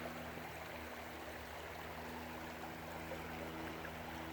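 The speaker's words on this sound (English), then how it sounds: "the creek is flowing real nice today" Steady, even rush of flowing creek water, soft and continuous with no pauses, a constant gentle trickle throughout.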